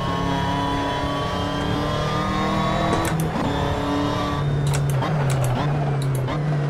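Car engine in the Assetto Corsa racing game, driving with steady harmonic drone that drops in pitch at shifts, loud and continuous with no talk.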